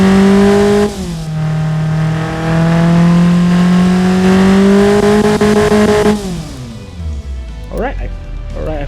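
A Hyundai 1.4-litre inline-four engine fitted with aggressive camshafts, as simulated in the Automation game, holds a loud, steady drone with a strong tonal hum that slowly rises in pitch, then drops away as it revs down, followed by brief faint sounds.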